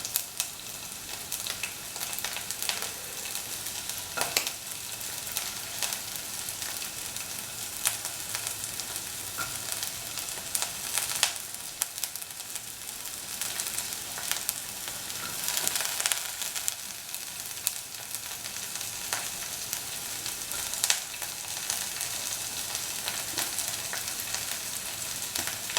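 Onion pieces fry in a pan with a steady, bright sizzle and crackle, close and constant throughout, with occasional louder spits and bursts of hiss.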